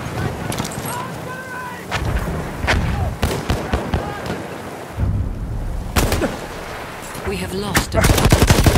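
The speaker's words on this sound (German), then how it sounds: "Feindliches Maschinengewehr!" Enemy machine guns in a World War 1 shooter game rattle in loud, repeated bursts amid scattered gunfire, with voices talking and shouting over the shooting.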